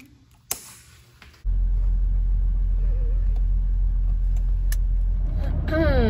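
Inside a moving car, a loud, steady low road rumble starts after a quiet moment with a few clicks, and a voice speaks briefly near the end.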